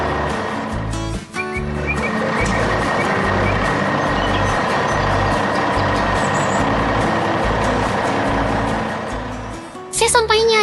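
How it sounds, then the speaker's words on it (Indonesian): An animated green truck drives through city streets, its engine rumbling loudly and steadily while reversing beeps pulse in a regular rhythm and a narrator talks over it. "Kini truk hijau itu melaju dengan pasti melalui jalanan kota"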